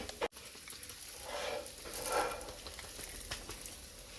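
Sesame seeds frying in a pan alongside roasted chana dal give a soft, steady sizzle that swells and fades, with faint stirring and no voices.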